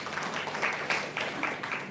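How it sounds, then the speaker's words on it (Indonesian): Brief applause from an audience at a nursing seminar and workshop, a short burst of scattered hand claps with a loose, uneven rhythm, moderately loud and fairly close. "Tepuk tangan buat beliau."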